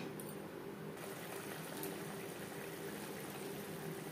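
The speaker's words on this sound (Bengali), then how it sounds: "4-5 মিনিট মিডিয়াম ফ্লেমে মশলা কষিয়ে নিই" Spice paste with turmeric and water sautéing over a medium flame for a potato-cauliflower curry, a faint steady sizzle and bubbling that holds evenly throughout with no talk.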